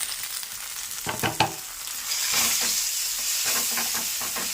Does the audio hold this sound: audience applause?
no